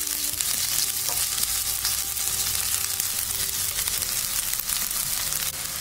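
Cut amla (Indian gooseberry) pieces fry steadily in hot oil in a pan, a dense, even sizzle running loud and close throughout with faint stirring clinks and no voices.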